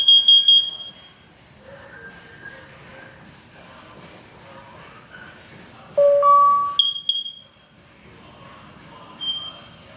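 Nest Protect 2nd Gen smoke and carbon monoxide alarm running its self-test: a series of clear, loud electronic chimes and tones at shifting pitches, with the strongest rising tone near the middle and a softer chime toward the end.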